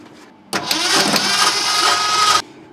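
Starter on an old 1972 Ford Highboy truck grinds the engine over steadily for about two seconds, loud and close, with the spark plugs removed so it spins without firing, then cuts off abruptly.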